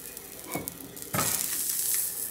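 Eggplant roasts on a hot tawa griddle with a continuous sizzling hiss that swells partway through, close up and without talk.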